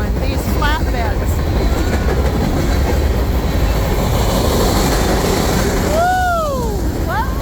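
A freight train pulling coal flatbed cars rolls past nearby with a continuous low rumble and clatter, broken by a few brief wheel squeals.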